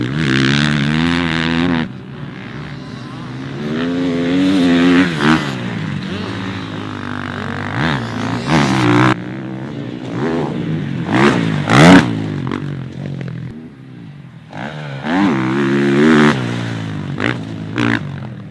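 A 2019 KTM 450 SX-F motocross bike riding on a dirt track, its engine revving up and down through repeated throttle bursts and gear changes, loud and close, with brief lulls between pulls and no talking.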